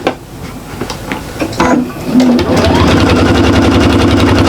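A sewing machine stitches a shopper bag and backstitches. Brief handling knocks come first, then the motor settles into a steady, loud, close whirring hum with rapid needle chatter.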